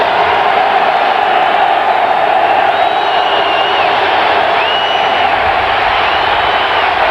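A football stadium crowd cheering at a 1995 Green Bay Packers vs Tampa Bay Buccaneers game, a loud, sustained roar with whoops and whistles rising out of it, continuous for several seconds.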